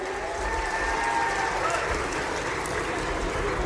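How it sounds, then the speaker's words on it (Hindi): A large crowd claps loudly for a member of parliament at a chief minister's public event in Khargone, Madhya Pradesh: a dense, distant-sounding wash of applause mixed with broad hall or outdoor noise and faint voices underneath. "अभिनंदन करें गजेंद्र सिंह जी का जोरदार तालियां बजा करके।"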